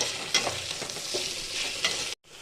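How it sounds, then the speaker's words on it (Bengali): Ginger and garlic paste being sautéed and stirred in a pan, a steady close sizzle with occasional scraping stir strokes, cutting off abruptly near the end. "এক টেবিল চামচ আদা বাটা আর এক টেবিল চামচ রসুন বাটা দিয়ে এবার এটাকে আমি একটু ভালো করে কষিয়ে নেব"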